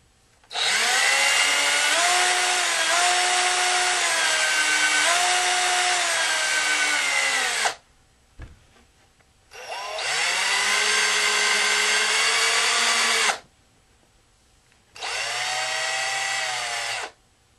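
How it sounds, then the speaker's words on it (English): A power drill bores a hole in a broken RC car part in three sustained bursts, a loud whining motor with slight pitch dips under load and short pauses between runs. "is drill a hole in this one too."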